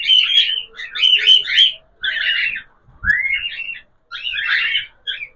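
Cockatiels calling in repeated bursts of shrill, warbling whistles and chirps, close and loud, separated by short pauses, with a faint low thump partway through.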